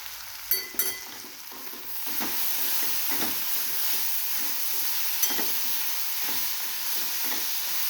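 Tomatoes dropped into okra frying in a pan, two sharp clatters, then a steady close sizzle and hiss with occasional soft stirring scrapes.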